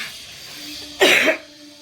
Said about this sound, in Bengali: প্রচণ্ড পরিমাণে শুকনো কাশি হচ্ছে আমার